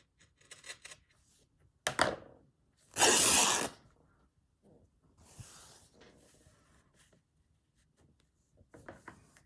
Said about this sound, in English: let's cut a piece that is wide enough to go past the joins to secure the spine